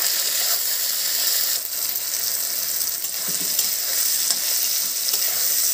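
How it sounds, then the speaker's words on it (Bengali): Tomato with salt fries in a pan with a steady, close sizzle, while a utensil scrapes and stirs through it with intermittent clicks. "স্বাদ মতো নুন টমেটোটা যতক্ষণ না গলে ততক্ষণ দিয়ে এটাকে আমি একটু কষিয়ে নেব"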